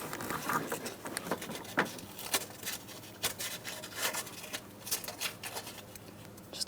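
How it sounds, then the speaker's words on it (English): Sandpaper lightly scuffing an exhaust pipe on a 2008-2016 Chrysler Town & Country during oxygen sensor replacement, a steady soft rubbing and scratching with irregular faint scrapes throughout. "I'm going to be using a clean piece of sandpaper."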